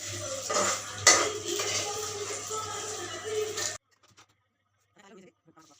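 A spoon scrapes and clinks against a bowl while navaratnala chutney is mixed, with busy close metallic clatter for several seconds, then near silence with a few faint sounds.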